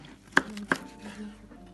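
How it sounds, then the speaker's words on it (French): A knife blade cuts through a whole chicken in a dining room, two sharp close chopping knocks against the board followed by quiet cutting, with no talk. "Je passe ma lame de couteau de l'autre sens."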